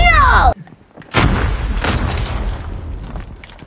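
A flashbang grenade goes off in a first-person shooter game with a sharp, loud boom, followed by a ringing, rumbling wash of noise and battle sounds under excited talk.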